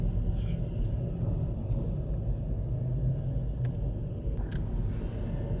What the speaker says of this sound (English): A lot of vehicle traffic though all of a sudden.